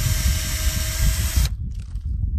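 An electric drill bit bores into a maple tree trunk at an upward angle, giving a steady close whirring hum that cuts off abruptly near the end.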